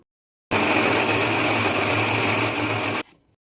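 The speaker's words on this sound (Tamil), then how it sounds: "இப்போது தக்காளியை மிக்சியில் அரைச்சி எடுத்துக்கலாம்" An electric mixer grinder grinds tomatoes in one steady, loud, close whirring burst of about two and a half seconds, starting abruptly and cutting off sharply.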